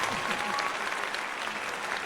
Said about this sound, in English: Oh, applause for David.